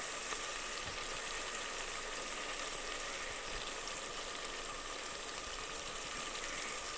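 Masala for moong dal cooking in a pan, a steady close sizzle and frying hiss running evenly throughout, with faint scraping from stirring and no voices.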